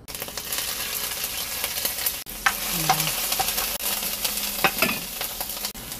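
Minced garlic sizzling in two tablespoons of hot cooking oil in a pan, a steady close frying hiss with stirring clicks and scrapes throughout, no talking.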